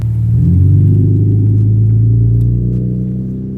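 An Infiniti Q50 engine rumbles steadily as the car rolls along, a loud low drone that rises slightly in pitch, then gradually fades.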